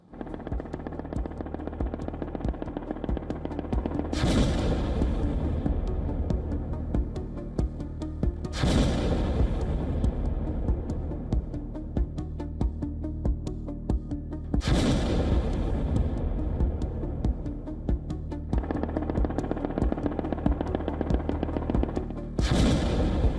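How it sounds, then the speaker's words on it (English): Several heavy explosions strike a Ukrainian city at intervals of a few seconds, each a sharp broadband blast over a constant low drone, distant and powerful. "Explosions rip through cities."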